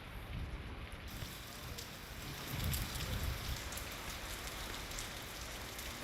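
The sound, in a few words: heavy rain pouring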